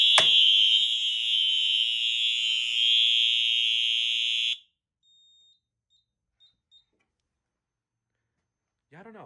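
An old high-school fire alarm system sounds after a detector is set, a loud, steady piercing electronic tone close by that cuts off after about four seconds, followed by near silence with a few faint blips and a brief voice at the end.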